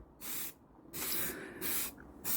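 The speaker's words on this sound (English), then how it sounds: "So I'm just giving it a bit of black spray paint," Black spray paint hisses from an aerosol can onto a carved rock in three or four short close bursts separated by brief pauses.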